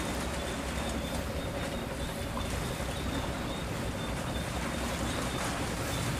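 A fishing boat engine speeding up as it heads toward the harbor at Binh Ty port, a steady loud low drone with water wash, continuous and near throughout.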